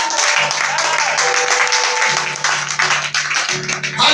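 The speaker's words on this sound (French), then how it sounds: "Est-ce qu'on peut acclamer Zika?" A church congregation applauding and cheering for a preacher named Zika at a French-language worship service, steady crowd clapping and cries under a musical backdrop, with a voice speaking over it throughout.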